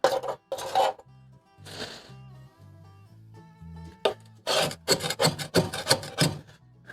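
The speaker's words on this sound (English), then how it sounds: "you want to make sure you scrape off all the buildup off of these orifices" Caked buildup is scraped from the orifices of a wood pellet stove during a deep clean, giving close, rasping scrapes. A few are spread out early, then a dense run of quick strokes follows, over a low background hum.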